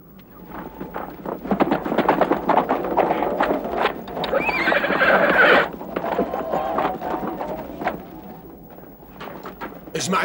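A horse whinnies loudly while its hooves clip-clop steadily over ground, in a historical drama battle setting, with wind noise in the background and no talk.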